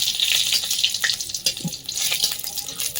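Halved dried red chillies frying in a little oil in a kadai, a close, steady crackling sizzle with brief spits and pops.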